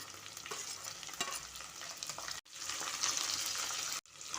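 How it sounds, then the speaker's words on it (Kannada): Onion, beans, carrots and peas frying in oil for pulao, a bright close sizzle with stirring scrapes, briefly cut twice by abrupt gaps before resuming, no speech. "ಇವಾಗ ಇದೆಲ್ಲ ಚೆನ್ನಾಗಿ ಫ್ರೈ ಆಗಬೇಕು ಎಣ್ಣೆಯಲ್ಲಿ"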